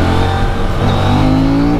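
A 2024 CF Moto 450 MT or 800 MT adventure motorcycle engine holds high revs during a test ride, a loud, steady close-range drone with a rising tone near the end.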